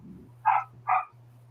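Two sharp dog barks ring out close together, loud and near, over a low steady hum in a quiet room.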